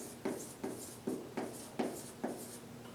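Marker or chalk writing a number on a board in a classroom review, six evenly spaced short scratchy strokes, quiet and close with no talk.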